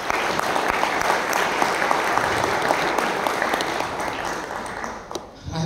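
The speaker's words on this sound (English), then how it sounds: "let's start by giving a good round of applause to the core team" A summit audience at an India–Africa entrepreneurship and investment gathering gives the core team a loud, sustained round of applause, thick crowd clapping that tapers slightly near the end.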